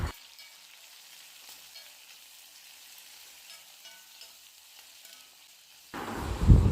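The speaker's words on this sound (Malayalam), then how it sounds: "അരിഞ്ഞു വെച്ചിട്ടുള്ള ഉള്ളി, തക്കാളി, പച്ചമുളക് ഇത്രയും ചേർത്ത് കൊടുക്കുന്നുണ്ട്." Chopped onion, tomato and green chili frying with garlic and curry leaves for sambar, a quiet steady sizzle that swells into a loud, close burst of frying and stirring at the very end.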